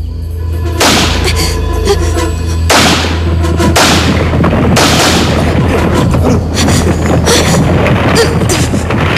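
Gunshots ring out at a cave entrance, a sharp close blast followed by two more heavy booming reports that echo and rumble on, loud, with no talk over them.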